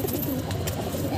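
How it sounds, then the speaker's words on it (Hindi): Punjabi pigeon cooing softly in a low steady murmur, close by, with a busy rustling background and no clear talk. "पंजाबी कबूतर है भाई, देखो शौक करो इसका कितना मस्त कबूतर है"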